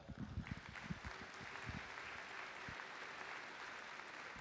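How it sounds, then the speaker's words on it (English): Quiet applause rises from a hall of fame induction ceremony audience for a team captain, with a few louder close claps early before settling into a soft, even patter. "let's give a round of applause for our captain, Dale Ackland"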